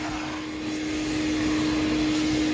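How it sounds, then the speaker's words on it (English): A vacuum cleaner runs steadily and loudly inside a Honda car, a continuous whooshing roar with a pronounced motor hum and no break across the short stretch. "Pull the mats out too to vacuum."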